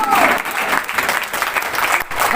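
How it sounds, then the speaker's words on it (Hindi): An audience at an anniversary celebration and cake-cutting event in Delhi applauds with sustained, dense clapping that fills the room, loud and continuous throughout. "तालियां नहीं रुकनी चाहिए"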